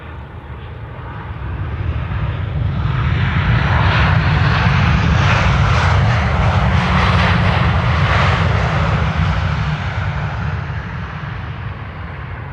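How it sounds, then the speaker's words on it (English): A KLM airliner arriving from Munich at Amsterdam Schiphol roars past on approach, a loud, broad engine rumble that swells toward the middle and slowly fades, with no talking. "KLM flight 1852 over here, arriving from Munich"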